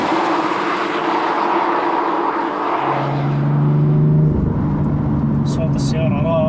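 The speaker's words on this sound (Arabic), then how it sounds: "صوت السيارة رائع، 6 سلندر تيربو 3000 سي سي، نغمات رائعة." Turbocharged 3.0-litre six-cylinder engine of a 2016 BMW M2, a loud steady drone that rises into a sustained rev partway through, with a brief higher whine near the end.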